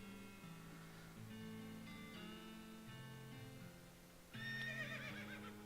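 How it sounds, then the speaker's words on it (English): A horse neighs in the video game West of Loathing, a melodic whinny in several rising and falling steps, ending on a brighter trill, fairly quiet and alone. "That was a horsey."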